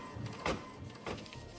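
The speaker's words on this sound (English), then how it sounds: "I print all of my miniature printables using the HP Envy Inspire printer." An HP Envy Inspire printer prints with two brief, faint mechanical whirring bursts separated by a quieter hum, heard alone and up close.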